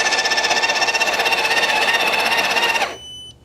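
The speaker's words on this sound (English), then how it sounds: "So first, I'm going to do the coffee once again. Same as with the Americano, I'm going to prepare my coffee first. So I'm going to put it into the grinder and press the grind button." The built-in grinder of a Breville Barista Touch BES880BBS espresso machine grinds coffee with a loud, steady, close whir carrying a rapid pulsing buzz, stopping abruptly near the end and leaving a faint hum.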